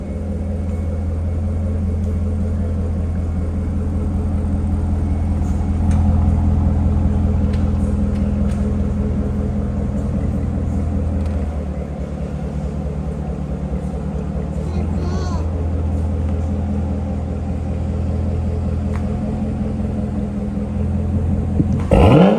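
A Chevrolet Corvette C7 engine rumbles deeply and steadily as the car pulls out of a parking lot, its low note holding throughout with a slight dip midway, while people talk over it.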